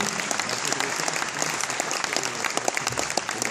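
An audience at an award ceremony applauds warmly, dense steady clapping from a sizeable crowd with individual sharp claps standing out close by.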